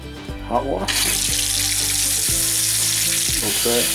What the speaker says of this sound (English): Alright, now we're going to turn on the water and see what we have.